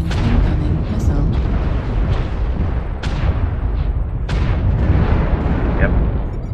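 Missiles explode against a mech in the MechWarrior Online video game, a dense barrage of loud booms and sharp bursts repeating over roaring rumble throughout, with a voice speaking over the battle.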